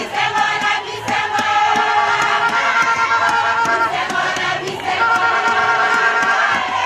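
A dense, loud crowd of the population presses close around the head of state, Félix T., in Zongo, a steady roar of many voices with brief sharp accents rising through it.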